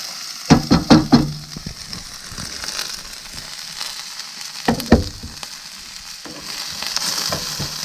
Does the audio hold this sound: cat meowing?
no